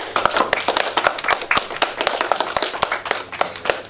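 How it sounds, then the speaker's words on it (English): A school class claps for a student presentation, a fairly close burst of many hands in quick, uneven patter that carries on steadily for several seconds. "Let's give Matthew a clap."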